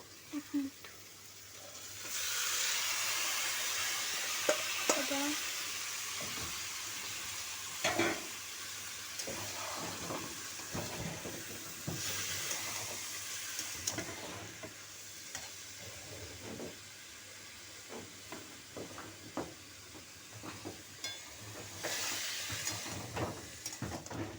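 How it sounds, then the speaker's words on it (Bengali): Banana flower (mocha) and grated coconut fry in a pan for a prawn dish, giving a soft, steady sizzle broken by repeated stirring scrapes and clatters, close by with no talking. "এবার আমি এই মোচাটা দিয়ে দেব।"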